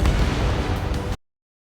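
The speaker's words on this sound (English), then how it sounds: "He's locked on. H2, missile launch." A missile launch in the video game Ace Combat 7: a loud, dense roaring burst of rocket thrust that holds for just over a second, then cuts off abruptly into silence.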